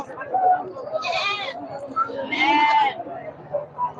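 Goats at a busy Sunday livestock market bleat in two loud, wavering cries amid a crowd murmur, with people talking nearby and other animals calling faintly.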